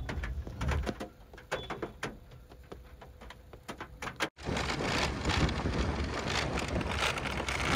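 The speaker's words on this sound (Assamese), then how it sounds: "ইমান বৰষুণ পৰি আছে" Heavy rain in a storm in northeast India patters and drips at first, then turns abruptly into a loud, dense, steady downpour.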